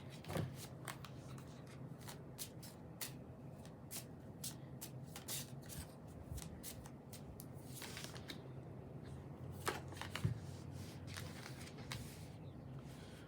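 An oracle card deck, the Shihu deck, riffled and shuffled by hand in a run of quick, papery flutters and slaps that keep coming for the whole stretch, close and fairly quiet, with no voices.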